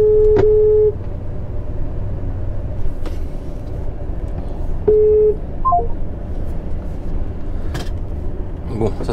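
Phone call being placed through a car's hands-free connection inside a truck cab: a steady dial tone, then short beeps and tones over low engine rumble, with a person speaking between them.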